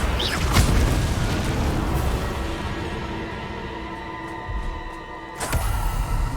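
A Confringo fire spell exploding in Hogwarts Legacy, a loud, deep rumbling blast that swells and decays over several seconds, followed by a second heavy burst near the end.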